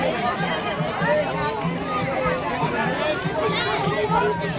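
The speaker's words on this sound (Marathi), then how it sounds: "जव्हार तालुक्यातील इथं या परिसरात गर्दी आहे" Busy crowd at a Mahashivratri village fair in Devtali, Jawhar taluka, a dense babble of many overlapping voices with children's calls mixed in, steady and close all the way through.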